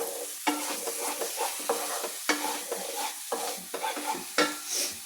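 Amaranth thoran with egg is stir-fried in a pan, with a hot sizzle broken by a run of spoon scrapes and taps against the metal that come in an uneven rhythm, close and clear, with no voices.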